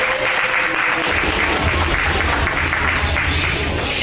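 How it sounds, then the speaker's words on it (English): An audience claps at a midwife panel event in a Hyde Park, Chicago event space, giving a dense, sustained round of applause that fills the whole moment at full, close volume. "Y'all clap it up for them too."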